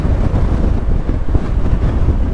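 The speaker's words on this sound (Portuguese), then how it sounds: "está um vento terrível e um vento gelado mesmo" Strong, freezing wind buffets the microphone during a ride on a 2022 Honda Forza 125 maxi scooter, producing a loud, steady low rumble with no voices.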